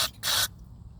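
Two short bursts of cleaner sprayed through a needle nozzle into a hole in a Kawasaki ZZR1200 fuel pump part, loud and close, a brief hiss followed by a longer one, then quiet.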